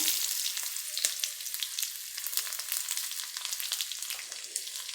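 Mustard seeds frying in oil along with dried red chillies and shallots crackle and pop in a dense, bright sizzle, with rapid sharp spatters continuing for the whole stretch, close up and without speech.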